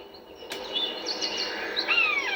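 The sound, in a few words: bird calling nearby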